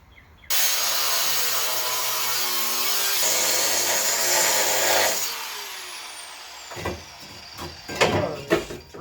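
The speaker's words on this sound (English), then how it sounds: "we gotta cut these parking brake cables too" Parking brake cables on a Ford Ranger being cut with a power tool: a loud, steady rasping whine runs for about five seconds, then gives way to a few scattered clanks and knocks.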